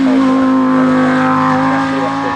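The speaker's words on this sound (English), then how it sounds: "V10 engine, incredible performance" A Lamborghini Huracan STO's V10 engine revs and roars continuously at close range, loud and sustained with a steady droning tone, no voices present.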